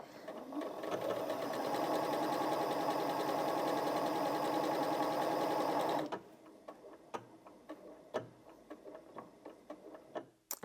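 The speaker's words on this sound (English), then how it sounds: "You can also use the locking stitch, which does 3 stitches on the spot" A Janome MC 6700p sewing machine runs a steady, fast stitch for several seconds, then stops and gives a series of sharp ticks and clicks as it ties off a locking stitch. The sound is close and fairly quiet.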